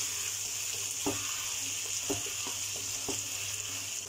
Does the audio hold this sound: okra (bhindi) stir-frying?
yes